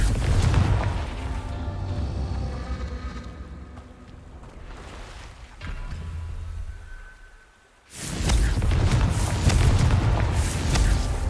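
Confringo fire explosion spell going off in the video game Hogwarts Legacy, heavy booming blasts with rumbling bursts and a gap before a second loud explosion.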